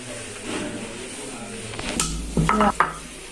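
Sour jujubes (boroi) with green chilli and coriander being pounded and crushed by hand, giving a few dull thuds and sharp clinks close by over a quiet background, with the loudest knocks bunched near the end.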